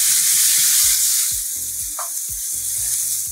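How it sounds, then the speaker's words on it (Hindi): Chopped onions sizzling loudly in hot oil on a high flame after bay leaf has gone in, a constant hiss with a faint rhythmic tapping underneath and one brief clink. "तेज पत्ता डालने के बाद 30 सेकेंड के बाद हम इसमें डालेंगे प्याज और इसे अच्छी तरह भूनेंगे।"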